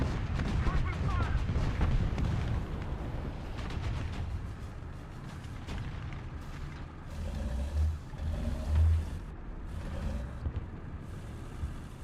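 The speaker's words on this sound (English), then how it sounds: "Artillery strike! Coordinates! Charlie! 6! Destroy! Charlie! 6! Charlie! Open fire!" Artillery barrage in War Thunder, a dense stretch of heavy booming shellfire and rumbling blasts that is loudest early on, then eases into a steady low rumble with a few deeper thuds near the end.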